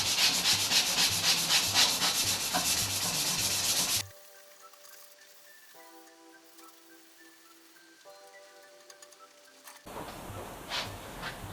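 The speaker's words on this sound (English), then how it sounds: "And I clean that up, get a bit of emery," Emery cloth rubs steadily and briskly over a steel go-kart rear axle for about four seconds, a loud close scraping rasp, followed by a quieter stretch and then another burst of rubbing.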